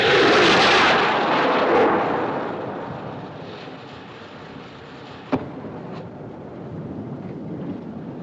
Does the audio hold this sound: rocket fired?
yes